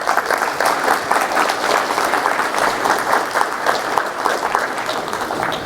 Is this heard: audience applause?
yes